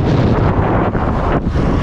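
Strong wind between tall buildings in Dubai buffets the microphone with loud, low roaring gusts that rise and dip over a couple of seconds.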